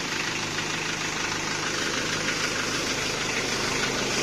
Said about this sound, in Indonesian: Mungkin suaranya agak berisik ya, soalnya yo jenengan tahu sendirilah mesinnya